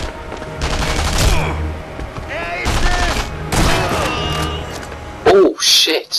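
Gunfire in the video game Sniper Elite V2 rattles out in several sharp bursts and volleys, loud and close, with players' voices talking over the shooting and a couple of punchy final shots.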